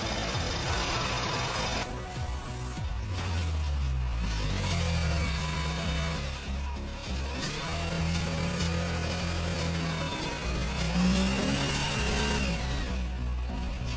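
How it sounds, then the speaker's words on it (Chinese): Audi Q5 engine idling with a faulty tensioner or idler pulley, a continuous mechanical hum with a whirring, rattling undertone that shifts in pitch, heard up close and alone. "就這裡有一個雜音，可能是哪個張緊輪壞掉了"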